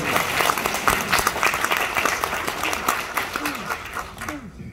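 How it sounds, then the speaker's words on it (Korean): Audience applause at a political lecture hall event in Busan, a dense crowd of clapping that stays steady and fairly loud, with a few voices calling out over it before it tapers off at the end. "박수 한번 좀 보여주세요."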